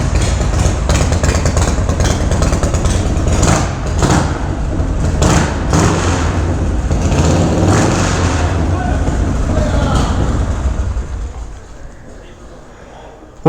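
A 35-year-old 1984 Harley-Davidson FXRP motorcycle engine runs at a loud, rough, loping idle up close, with brief revs along the way, then drops off sharply near the end. Voices can be heard faintly under the engine.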